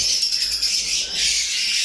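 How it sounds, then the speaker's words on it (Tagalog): Caged breeding birds kept in an indoor room chirp steadily in a brief, continuous high twittering with no voices. "Kakagulo yung ating mga ibon."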